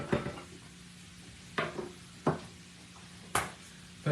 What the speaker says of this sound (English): Now I'm going to go ahead and put the rest of my onions.